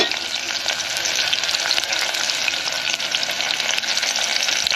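Green chillies fry in a pan with a steady, dense sizzle that stays loud and even throughout, with faint stirring mixed in and no voices.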